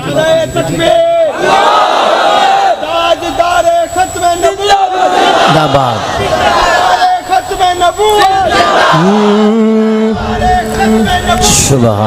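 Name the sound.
crowd loudly responding to a religious slogan chant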